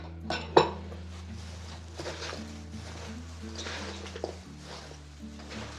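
A vegetable salad with cabbage and spices is tossed and mixed in a bowl, with a sharp clink near the start followed by soft scraping and light knocks of a utensil against the dish.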